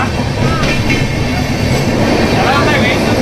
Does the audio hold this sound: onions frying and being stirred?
no